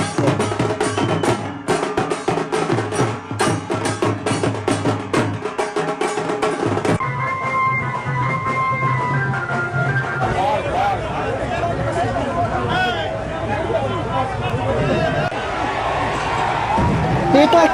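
A loud, close crowd at a Chandannagar Jagadhatri Puja immersion, with rapid drum-like beats at first, then a sustained roar of voices, shouts and chatter with some high-pitched whistling.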